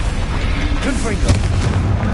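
A Confringo blasting spell explodes in a Harry Potter video game, a dense booming burst with rumbling low end that swells near the middle of the short stretch, set among continuous game noise and voices.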